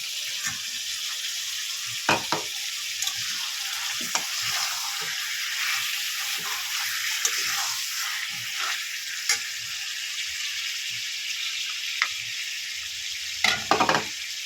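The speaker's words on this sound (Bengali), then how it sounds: "আমি আলুকে ভেজে নিয়েছি দিয়ে দেবো এবারে" Fried potatoes tipped into a pan of chicken curry cooked village style, setting off a loud, steady sizzle that hisses continuously up close, with a few sharp clatters and scrapes of the utensil toward the end.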